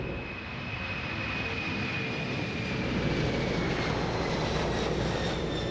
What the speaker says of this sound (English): All right, folks, it's time to prepare for departure.